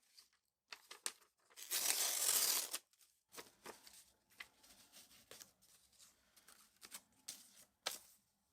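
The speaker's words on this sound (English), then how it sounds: "So I am going to just rip a piece." A piece of paper is ripped by hand for a mixed media art journal page: one long, loud, close tear, then a run of short crinkles and rustles as the scrap is handled.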